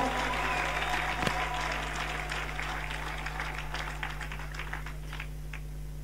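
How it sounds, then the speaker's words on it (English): A church congregation claps for the Lord during a Bible class, the applause dense and steady from start to finish. It fades slightly toward the end, with a constant electrical hum beneath it. "Let us clap to the Lord."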